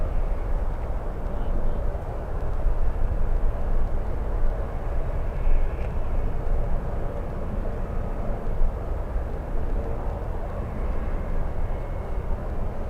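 An Airbus A380 airliner rumbles at San Francisco airport, a steady heavy jet roar with low-end weight that fills the scene throughout, while people chat faintly nearby.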